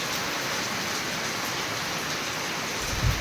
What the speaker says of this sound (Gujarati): પવન ને વરસાદ બધે.